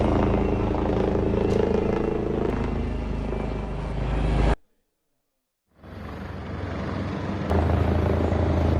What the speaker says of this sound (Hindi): ये हेलीकॉप्टर हम आपको दिखा रहे हैं।